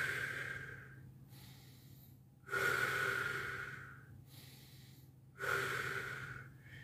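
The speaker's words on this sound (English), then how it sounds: "Next, we do the belly breathing. The belly and back breathing." Slow, deep belly and back breathing during a qi gong iron body meditation: long audible inhales and exhales, each drawn out over a couple of seconds, close and alone with no talking.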